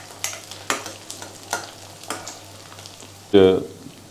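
Onions frying in a pan for a Punjabi rajma masala, with whole spices added, give a low steady sizzle broken by repeated short scraping stirs, then one louder clatter near the end.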